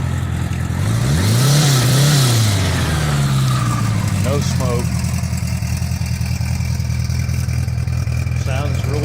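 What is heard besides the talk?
1976 Honda Goldwing motorcycle engine running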